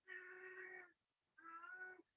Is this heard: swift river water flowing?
no